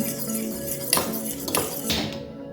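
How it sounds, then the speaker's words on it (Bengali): Egg batter with onion and green chilli being mixed in a bowl, a few clinking utensil strikes against the bowl amid soft scraping, close and moderately quiet. "আবারও সবটাকে একটু ভালো করে মিশিয়ে নিলাম।"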